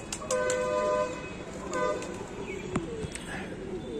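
Pigeons coo and call in short bursts over a busy outdoor backdrop, with occasional distant horn-like toots and background noise.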